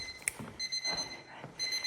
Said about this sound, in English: There goes the timer.